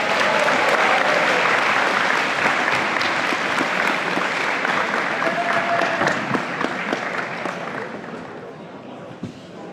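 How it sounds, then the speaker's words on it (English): A crowd at a school athletics awards ceremony applauds the starting setter for several seconds, steady dense clapping that slowly thins toward the end, with faint voices beneath. "Could I get a round of applause for our starting setter"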